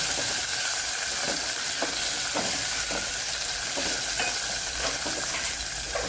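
Wet pigeon pea pods sizzle and steam as they roast in a pan, with a steady broadband hiss and a few soft scraping stirs at regular intervals throughout.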